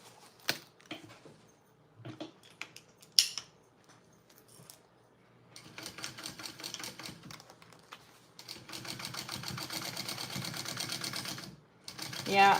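Sewing machine stitching fabric for a Roadie bag, a fast even motor whirr in bursts that build to a long continuous run, with scattered handling clicks between.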